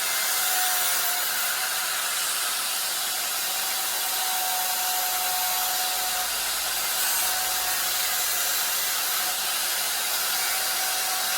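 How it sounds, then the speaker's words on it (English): A power tool cuts steadily through a rusty rear quarter car body panel on a Renault 5, a loud continuous high whine and rasp running unbroken and close, with no talk. "just cutting this panel out."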